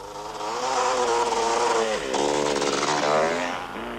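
A KTM rally motorcycle on a desert course at the 1988 Baberspan 500 races past with a loud, buzzing engine, revs climbing and dropping as it goes through gear changes, close and then fading slightly.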